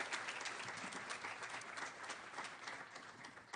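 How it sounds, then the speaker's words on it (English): Audience applause at a long-term care awards ceremony, dense continuous clapping from a crowd, fairly faint and distant but steady throughout. "How about a round of applause for those hardworking ladies?"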